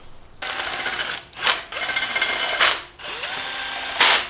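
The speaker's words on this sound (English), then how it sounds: "We're now turning all the bolts another 90 degrees." A power tool turns bolts another quarter turn, with several bursts of whirring mechanical drive separated by short pauses and brief louder impacts, loud and close.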